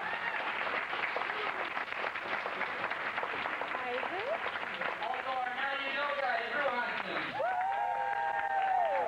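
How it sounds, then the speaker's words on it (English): A comedy-show audience gives the house band a round of applause: dense, continuous clapping mixed with cheers and crowd voices that lasts the whole stretch, with some brief tonal sounds near the end. "Give them a round of applause."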